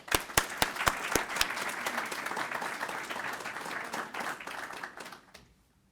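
An audience welcomes Clare O'Neil to the podium at a national security publication launch, a few distinct early claps swelling into steady, full applause that fades out near the end.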